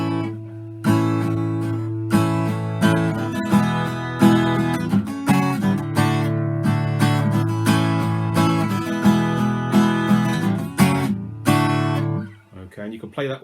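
Strummed acoustic guitar chords are played open without a capo in a song tutorial, moving through a bright, rhythmic progression for about twelve seconds before it stops.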